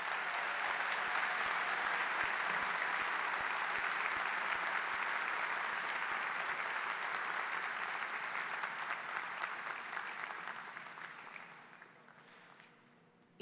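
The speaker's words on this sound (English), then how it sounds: "Let's give them all a big round of applause." Loud, sustained applause from the crowd at the OHS Class of 2020 commencement ceremony, a thick continuous roar of clapping that gradually thins and fades out near the end.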